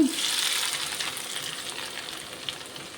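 Onion and curry leaves crackle in hot oil as a tempering for country-chicken sukka, a dense close sizzle that starts loud and eases slightly over a few seconds.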